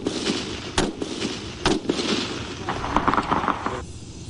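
Rifle gunfire at a military firing range, with sharp cracks at irregular intervals over a constant rumble of background noise and distant activity.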